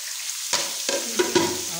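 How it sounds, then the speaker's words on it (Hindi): Garlic, capsicum and carrot are stir-fried in a pan for Chinese-style fried rice, with a low steady sizzle broken by several brief scraping stirs of the utensil, close and moderately quiet. "देखिए हमारा जो लहसुन है वो फ्राई हो गया है, तो अब मैं इसमें शिमला मिर्च और गाजर डाल दूँगी।"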